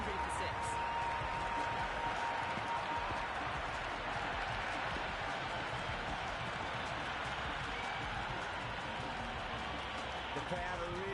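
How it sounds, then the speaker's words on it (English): A dense stadium crowd roars steadily in the Cricket 26 video game during an India vs Pakistan T20 match, a continuous loud wash of cheering and noise that barely varies from start to finish. "The crowd are really getting quite raucous."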